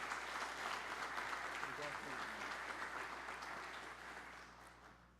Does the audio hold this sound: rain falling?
no